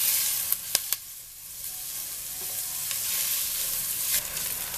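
Onion and garlic sautéing in a pan give a steady, close sizzle and hiss, with a few sharp clicks of stirring early on.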